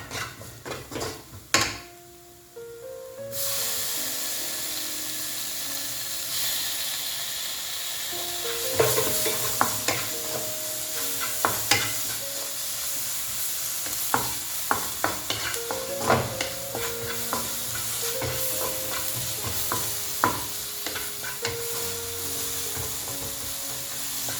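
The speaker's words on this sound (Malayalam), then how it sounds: "പൊടികളൊക്കെ ഒന്ന് മൂത്ത് വരുമ്പോഴേക്കും അതിലോട്ട് തക്കാളി ഇട്ട് കൊടുക്കും." Tomatoes frying with spice powders for paneer butter masala, a steady sizzle in the pan throughout with repeated stirring scrapes and clinks of a spoon, close and fairly loud, no talking.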